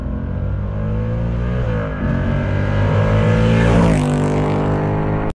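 A 2024 Ford Mustang Dark Horse V8 with a manual gearbox revs hard while driving, a loud, close, continuous engine roar that climbs in pitch, dips briefly at a shift, then surges again.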